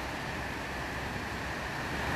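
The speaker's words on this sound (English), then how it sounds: "It's coming down, you see." Pouring rain falls steadily outdoors in Kenya, a continuous broadband wash of water that stays even and unbroken throughout, with no one speaking.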